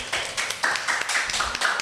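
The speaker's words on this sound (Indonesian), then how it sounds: "Tepuk tangan lagi dong" Audience at an Indonesian Independence Day podcast event claps, a run of sharp broadband claps in an uneven rhythm, fairly close and moderately loud, with no one speaking over it.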